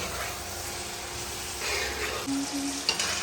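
Chicken with mete alu (yam) sautéing in a pan, a steady loud sizzle and fry close up with light stirring clatter near the end.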